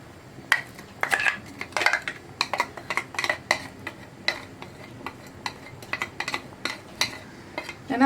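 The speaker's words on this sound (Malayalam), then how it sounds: "അരപ്പ് ചേർത്തിട്ട് നന്നായിട്ടൊന്ന് ഇളക്കി മിക്സ് ചെയ്യാം." Ground coconut paste being stirred into a cucumber and lentil curry in a pan, heard as a string of irregular metallic clinks and scrapes of a spoon against the pan, close and clear, with no voices.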